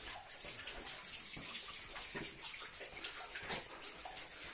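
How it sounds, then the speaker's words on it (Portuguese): Water spills down like a small waterfall inside a cave on Pico da Bandeira, a faint steady splashing and trickling that runs throughout with no voices. "Aí a água aqui dentro da gruta aqui, ó. Descendo tipo uma cachoeirinha, ó."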